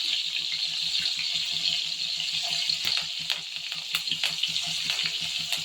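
Green chillies and curry leaves crackling in a hot pan for baby soya manchurian, a steady bright frying hiss with scattered pops and small stirring taps, fairly close and continuous with no talking.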